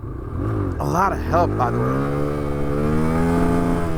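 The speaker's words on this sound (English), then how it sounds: "You could hear it revving out really badly" A motorcycle engine revs up with a rising, strained whine while a rider practices wheelies, climbing steadily over the last couple of seconds beneath someone talking close by.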